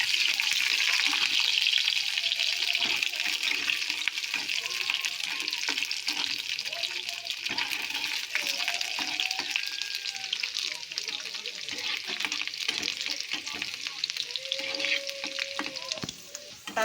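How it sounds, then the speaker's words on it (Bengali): Garlic and spices fry in hot oil in a wok with a steady bright sizzle throughout, broken by stirring scrapes and clinks and occasional faint background sounds. "কড়াইটা গরম হয়ে গেছে, একটু তেল দিয়ে দেব। এবার মশলাগুলো একটু তেলের মধ্যে নেড়ে নেব।"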